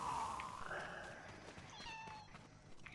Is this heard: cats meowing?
yes